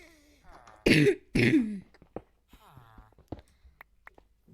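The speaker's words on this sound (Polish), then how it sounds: "Jezu, ale ten kaszel." Two loud coughs close together, followed by quieter throat sounds and faint clicks.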